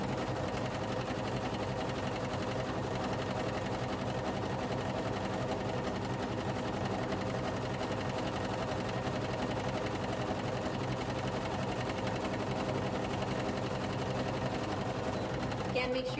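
A sewing machine running a wide zigzag stitch along a seam edge on pajama bottoms, a continuous close mechanical whir under a speaking voice.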